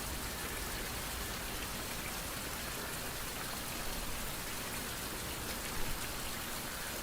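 Steady rain in a survival video game, a dense, even hiss of falling drops that fills the scene at moderate loudness, with no voices.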